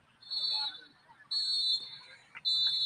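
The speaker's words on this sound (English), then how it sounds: "the final whistle of the game" A referee blows the final whistle at a youth soccer match, Inter Miami versus Tobago: three sharp, shrill blasts, the first two long and the last cut off, heard clearly over faint crowd noise.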